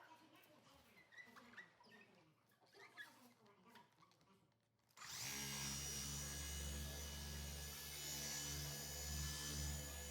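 A machine polisher with an ultra fine white jeweling pad and Angel Wax Perfect Polish starts up on a 2024 Corvette Convertible after some quiet talk, then hums loud and steady with a low rhythmic throb.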